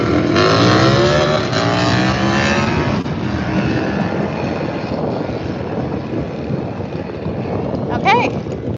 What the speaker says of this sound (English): This is just getting them on their bikes to see how well they're running.